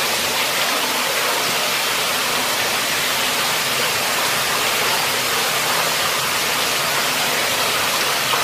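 Water pours steadily through a burst ceiling inside an abandoned mansion, a dense, unbroken rushing hiss close by and loud throughout, with no voices over it.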